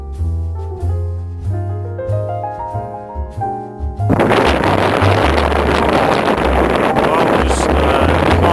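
On a boat trip on the river from Abingdon towards Didcot, between Oxford and London, music plays at first, then loud, roaring wind buffets the microphone in a continuous rush of noise.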